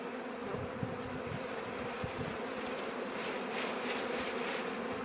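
A late-summer honeybee swarm enters a hive at an apiary, making a dense, continuous buzzing hum of many bees close by, steady throughout with no talking.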